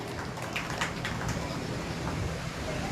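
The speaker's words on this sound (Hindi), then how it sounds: "जोरदार ताली बजा लीजिए" A congregation at a Jain Bhaktamar Stotra recitation gives hearty applause. The clapping is a continuous, fairly soft, rain-like patter that runs evenly throughout.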